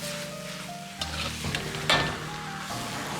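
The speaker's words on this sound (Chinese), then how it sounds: "再放入少许的蚝油和适量生抽酱油调味提鲜，翻炒均匀，炒出酱香味。" Cabbage stir-fried in a wok with oyster sauce and soy sauce, a quiet sizzle broken by a few sharp scrapes and clanks of the spatula as it is tossed, with a louder clatter near the middle.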